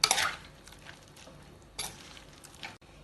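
Spoon scraping and clinking against a pot while stirring a Kasaragod-style jackfruit and chicken moleesham curry, with a sharp clatter at the start, soft scraping, and another knock near the end.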